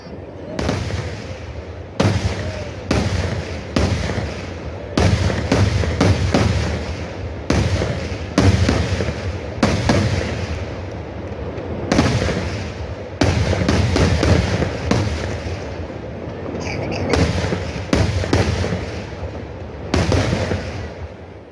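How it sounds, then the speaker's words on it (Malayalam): Sample fireworks at the Uthralikkavu Pooram festival in Kerala boom in rapid, irregular volleys of loud, sharp bursts, some cracking singly and others rolling together, with brief gaps between clusters over a continuous outdoor rumble. "ഉത്രാളിക്കാവ് പൂരം സാമ്പിൾ വെടിക്കെട്ട് പൂരപ്രേമികൾക്ക് ആവേശമായി."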